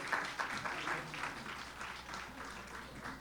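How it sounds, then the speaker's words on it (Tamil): An audience at the Global Tamil Fest 2025 applauds with steady, moderately distant clapping that holds evenly for a few seconds before easing slightly. "please give him a big round of applause."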